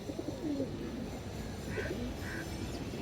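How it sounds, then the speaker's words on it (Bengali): A female pigeon from a good breeding line coos softly at close range in a few short, low bursts over a steady background hum. "ভালো লাইনের একটা মাদি কবুতর"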